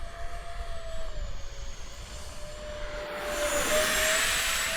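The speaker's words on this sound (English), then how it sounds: "That is how you land a plane that needs thrust over the thrust vectoring with no control surfaces." A thrust-vectoring NGAD jet fighter landing in a video game, its steady jet engine whine holding a high tone and then swelling into a louder, broader roar near the end.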